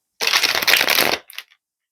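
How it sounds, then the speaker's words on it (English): A crisp riffle of playing cards being shuffled, about one second long, followed by a short soft tap as the deck settles. "When I hear shuffle, I shuffle."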